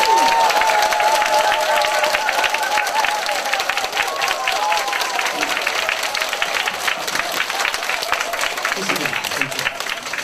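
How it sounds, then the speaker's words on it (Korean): An audience at a cancer seminar applauds together, a dense, sustained burst of clapping lasting the whole clip while a voice talks faintly under it. "박수 시작합니다."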